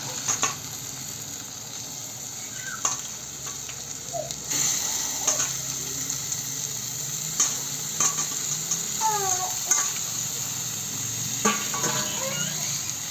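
Mutton pieces sizzle steadily in a pan with turmeric, green chillies and garam masala, while a spoon scrapes and stirs in irregular bursts of clinks and scrapes, close and moderately loud, with no talking.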